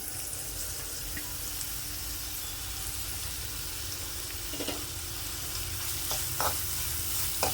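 Ponnaganti greens stir-fried in a pan with grated carrot, ginger and red chilli, giving a steady close sizzle with occasional scraping stirs, a few louder spatula strokes near the end, and no talking.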